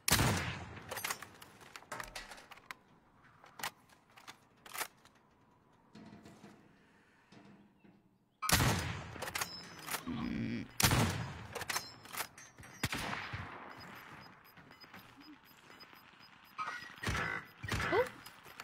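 Bursts of gunfire from an online battle-royale shooter game, sharp shots and short volleys scattered unevenly across the clip, with quieter stretches in between and a loud flurry of shots in the second half.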